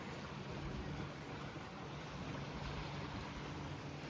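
Steady roar of strengthening ocean surf at Praia Barreiros beach in Galicia, Spain, mixed with wind buffeting the microphone, a constant wash of noise with no distinct breaks.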